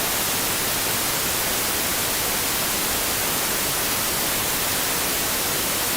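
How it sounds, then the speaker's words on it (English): Steady, constant broadband hiss of white noise filling the whole band, like an empty radio channel, unchanging and uniform from start to finish with no voices. "most people assume that you've got a white noise background, which sounds like this."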